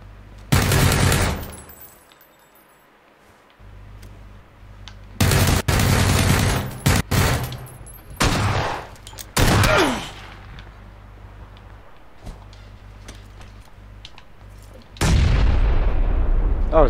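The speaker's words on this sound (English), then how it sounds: "Oh, I just got 3 kills with a grenade." Grenade blasts and bursts of gunfire in the PUBG video game: several loud, sharp explosive bursts of rapid shots separated by quieter gaps, with a final heavy barrage at the end.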